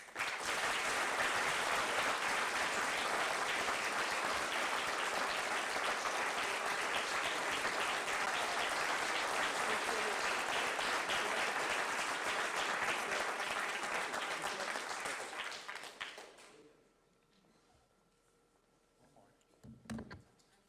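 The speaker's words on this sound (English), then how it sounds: "I'd like to have everyone give all the winners a round of applause" An audience at a city council meeting applauds award winners with dense, steady clapping for about fifteen seconds, then it tapers off into quiet room tone with a brief bump near the end.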